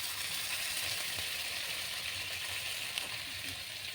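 Broth poured over spiced rohu fish belly pieces frying in well-cooked masala, giving a steady, even sizzle that hisses continuously throughout with no voices.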